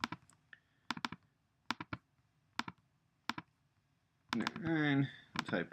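Sparse keystrokes on a keyboard tap out a password in short separated clicks, some in quick pairs, close and fairly quiet, with a brief spoken phrase near the end.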